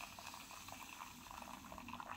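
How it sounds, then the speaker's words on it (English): Hot water is poured onto about two cups of alum crystals in a container, a faint, steady liquid trickle and bubbling with no voices. "I have around 2 cups of alum crystal in my container, to which I'm adding 1 cup of hot water."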